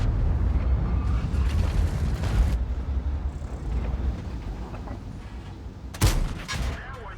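Tank cannon fire in a video game battle between a Chieftain and an E5: booming shots with rumbling engine and battlefield noise beneath, and one sharp, loud blast near the end.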